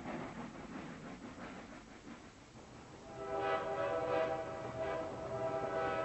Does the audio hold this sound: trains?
yes